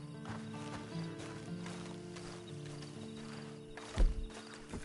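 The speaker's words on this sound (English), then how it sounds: "Then you better get on this horse." Quiet, steady clip-clop of horse hooves walking in the video game Red Dead Redemption 2, faint and rhythmic, with a brief thump near the end.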